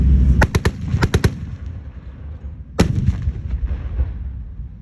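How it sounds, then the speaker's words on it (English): A .50 caliber machine gun mounted on top of a military vehicle fires at a tank display weekend: two sharp triple-shot bursts close together, then a single loud report, each echoing outdoors. "that 50 caliber machine gun that you guys see shooting them on top of the vehicle"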